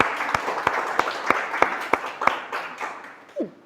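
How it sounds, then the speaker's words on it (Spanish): A church congregation claps in unison to praise God during a sermon, with about nine sharp, evenly spaced claps in a steady beat. A brief voice follows near the end. "Y el que lo cree dice amén y le da un aplauso al Señor."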